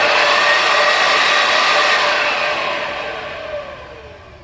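A Sanitaire SC888 upright vacuum cleaner motor, rusty but in good working shape, runs with a loud steady whine that gradually winds down and fades toward the end.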